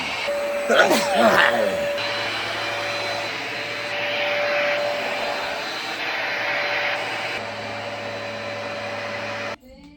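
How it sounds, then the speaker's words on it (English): A household vacuum cleaner runs with a loud, steady whine and hum close by, following a few brief voice sounds at the start, then cuts off abruptly just before the end. "Gotta do some vacuuming."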